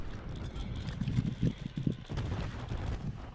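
Gunfire in the video game Alcatraz Blackout: a short burst of several loud, close shots clustered mid-clip, over a steady background rumble with no talk.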